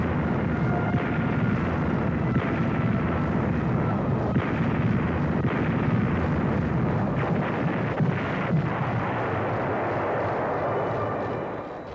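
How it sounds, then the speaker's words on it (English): Heavy naval guns of a WWII fleet firing at shore strongholds, a dense continuous rumble of booming blasts and roaring low noise filling the whole stretch, loud and unbroken with no voices over it. "the big guns of the fleet smashed enemy strongholds miles away"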